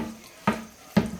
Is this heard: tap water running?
yes